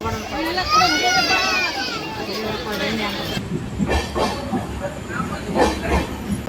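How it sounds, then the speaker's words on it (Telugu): A busy station platform with the Bidar–Machilipatnam train, crowd chatter and children's voices filling the scene over a low rumble of rail cars and occasional clanks, people talking throughout. "train number 1275 Bidar Machilipatnam"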